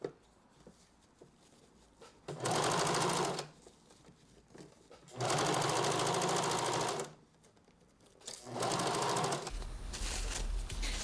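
A domestic sewing machine stitches the sleeve lining of a Belle princess costume dress in three bursts of rapid, steady needle whirring, close up, with quiet pauses between runs and no talk.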